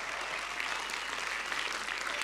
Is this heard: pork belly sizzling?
no